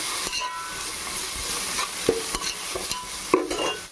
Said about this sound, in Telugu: ఇది అల్లం వెల్లుల్లి పేస్ట్ మనకి పచ్చి వాసన పోయేదాకా మంచిగా ఫ్రై చేసుకుందాం.